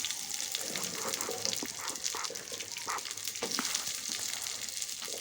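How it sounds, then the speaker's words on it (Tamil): Onion and garlic sauté in oil in a pan for a chappathi kuzhambu curry. The sizzle is soft and steady, with occasional light stirring clatter. "இந்த வெங்காய பூண்டெல்லாம் நல்லா வதங்கட்டுங்க."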